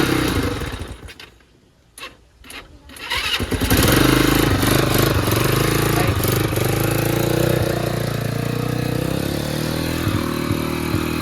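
A small engine, likely a motorcycle, coughs briefly at the starter after a quiet moment, then catches and runs loudly and steadily, throttled up and held at a rough, close drone.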